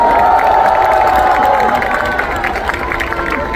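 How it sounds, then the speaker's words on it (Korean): A large crowd at an outdoor political rally in South Korea cheers and shouts together, a loud continuous roar of voices with scattered applause, heard from within the crowd. "큰 박수 부탁드리겠습니다"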